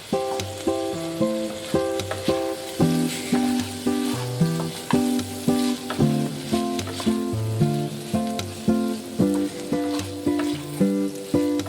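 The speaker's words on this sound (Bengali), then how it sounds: "4 মিনিট পর ঢাকা খুলে আবারও নেড়ে নেব।" Yardlong bean and potato curry sizzling in a pan while being stirred, steady frying crackle with rhythmic spatula strokes, heard beneath prominent background music.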